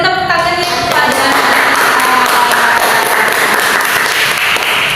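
A classroom of students applauds classmates after a presentation, a dense, steady wash of many hands clapping that swells in after a moment and carries on loudly.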